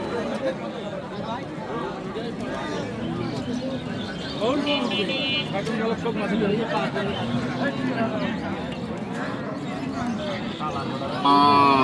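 At a cattle market in Aftabganj, cows with calves moo repeatedly, some close and loud, under constant crowd chatter and someone talking throughout.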